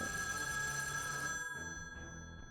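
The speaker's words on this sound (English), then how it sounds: "Oh, not the phone ringing." A telephone rings steadily in the puzzle video game Shivers 2, a sustained electronic bell tone continuing alone and fairly quiet throughout.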